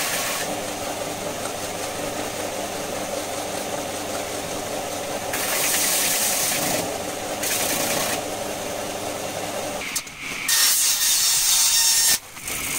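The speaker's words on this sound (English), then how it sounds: "get it down to a straight edge. I love this sander." Handheld power sander grinding down the edge of a plastic tray in a workshop, a steady rough whir with grittier, louder bursts midway and near the end, no talking.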